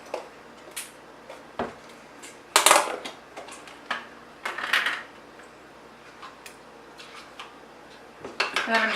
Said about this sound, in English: just mixing that together.